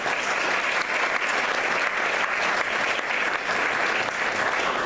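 Sustained audience applause from a crowd honoring a second-place varsity district competitor, steady dense clapping with no breaks, loud and close throughout.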